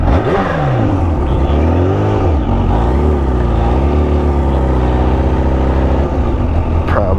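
A 2019 Kawasaki Ninja H2 engine revs up and down close by, its pitch rising and falling through several gear-like sweeps and then holding a loud, steady drone.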